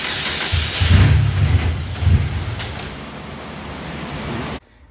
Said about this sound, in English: as soon as I turned it over, it surged a few times and then shut off by itself